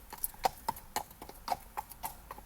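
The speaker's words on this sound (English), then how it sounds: "You can hear the hoofs on the ground." Horse hooves clip-clop on the ground as horses walk past, a fairly quiet, uneven series of about eight sharp knocks spaced roughly a quarter second apart over a low background.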